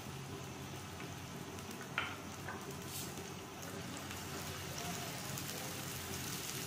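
Finely chopped medium onion frying in a tablespoon of oil for a dhaba-style tawa chicken keema: a steady, soft crackling sizzle, faint and continuous with a couple of small pops.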